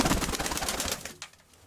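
Pigeons coo in a backyard loft, their soft, throaty calls mixed with busy fluttering and rustling close by, thinning out toward the end.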